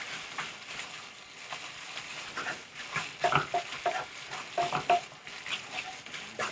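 Pad thai noodles cook in a hot pan and are stirred, with a soft steady sizzle and scattered scraping and clinking from the utensil, close and fairly quiet, with no talking.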